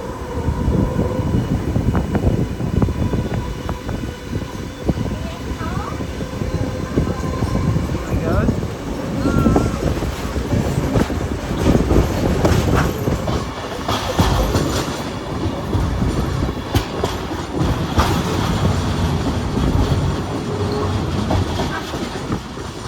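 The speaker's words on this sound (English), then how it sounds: "You can actually hear the locomotive just behind us." Ride aboard a train hauled by steam locomotive 6029 while switching tracks, with a continuous rumble and rhythmic clickety-clack of wheels over rail joints, brief squeals, and people talking over the noise.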